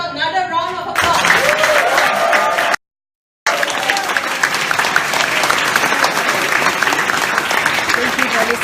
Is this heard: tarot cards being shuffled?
no